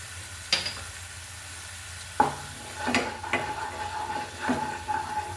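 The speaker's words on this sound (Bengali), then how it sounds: "মশলাটা একটু ভাজা ভাজা হয়ে গেলে আমি বেগুনগুলোকে এর মধ্যে দিয়ে দেবো" Spices with a little Kashmiri red chili powder fry in a pan for an eggplant dish, giving a soft, steady sizzle broken by a few sharp stirring scrapes and clacks, with no talking.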